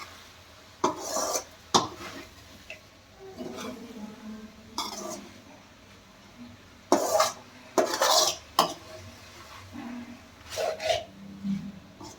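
A spoon scrapes and clatters against a pot while bean palya with coriander is mixed, producing scattered close knocks and rasping strokes separated by quiet pauses, with a brief cough-like sound among them and no talking.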